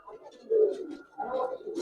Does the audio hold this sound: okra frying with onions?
no